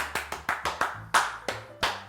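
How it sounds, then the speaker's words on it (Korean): Single person clapping, about nine sharp, crisp claps in a quick uneven rhythm, close and clear in a quiet indoor space with no talking. "박수!"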